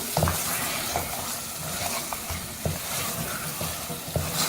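Mutton pieces seared in oil over high heat, giving a dense, continuous close sizzle with occasional soft stirring knocks throughout.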